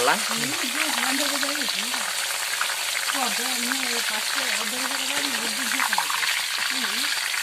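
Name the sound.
soybean chunks frying in hot oil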